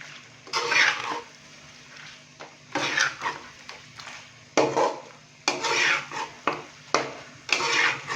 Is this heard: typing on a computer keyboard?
no